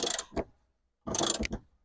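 A hand ratchet clicks in two short bursts of rapid pawl ticks, separated by a pause, while tightening a corroded bolt on a BMW E30 333i during a strip-down, close and clear with no talking.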